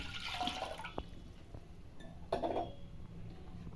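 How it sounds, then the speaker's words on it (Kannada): Water splashes and trickles into a metal pressure cooker in short bursts for cooking chickpeas, with a light clink of metal between pours, close by in a quiet room. "ಕುಕ್ಕರ್ ಇಕ್ಕಿದ್ದೀನಿ ಕಾಳು ಬೇಯಿಸ್ಕೊಳ್ಳೋಕ್ಕೆ ಸ್ವಲ್ಪ ನೀರು ಹಾಕ್ತಾಯಿದ್ದೀನಿ"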